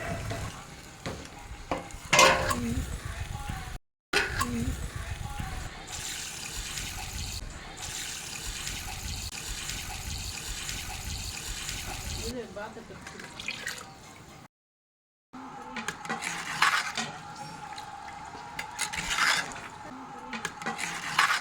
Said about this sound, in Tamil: அதுக்கேற்ற மாதிரி இப்போ நான் இதில் தண்ணி ஆட் பண்ணிக்கிறேன்